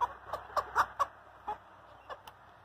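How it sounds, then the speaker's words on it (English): Farm chickens let out of their coop cluck in a quick run of short, close calls that thin out into a few scattered clucks, over a quiet background. "I'm going to let these chickies go out"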